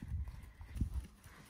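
Horse hooves thud in soft rhythmic beats during a riding lesson, fairly faint and muffled, with a few uneven strides over a short stretch.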